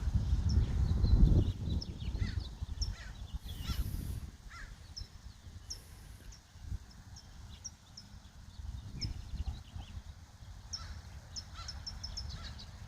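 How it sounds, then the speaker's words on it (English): Crows caw repeatedly over steady background noise, with several birds calling at once in an outdoor setting. "Yeah, there's a lot of birds here."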